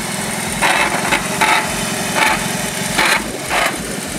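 A BMW R18 motorcycle's big boxer engine runs at low revs with a steady throbbing pulse, punctuated by periodic louder surges roughly every three quarters of a second, close and without talking.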